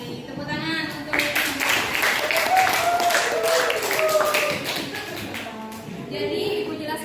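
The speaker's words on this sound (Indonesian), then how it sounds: "Tepuk tangan untuk." Students in a classroom clap together after a teacher's prompt, a burst of close, overlapping claps that lasts several seconds and then thins out, with voices mixed in.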